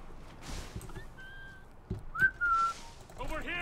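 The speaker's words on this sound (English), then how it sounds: "Whistle at him." In the Assassin's Creed 3 PC game, a character whistles to lure a guard: two short, clear whistled notes, the second sliding upward, over faint game ambience with soft breathy noise.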